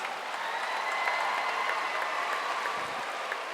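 Sustained applause from a large audience at a state agricultural convention awards session, a steady even wash of clapping heard from a distance, filling the whole span without breaks.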